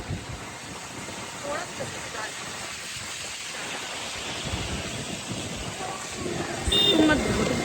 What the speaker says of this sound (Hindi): आप लोग देख सकते हो कितनी तूफानी बारिश चल रही है